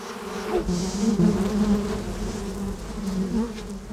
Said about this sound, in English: That's a bee going back to the hive.